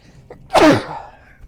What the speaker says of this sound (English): Feeling a sneeze.